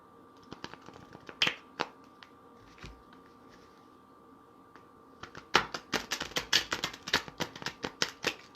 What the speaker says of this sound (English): I'm going to give it three shuffles.